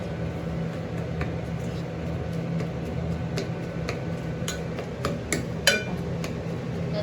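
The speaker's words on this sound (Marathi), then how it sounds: "चांगली पळीने फटून म्हणतात किंवा ते स्मॅश करून घ्यायचे" Soft repeated knocks and clinks of a ladle mashing cooked fenugreek greens in a pot, irregular and close, over low background noise.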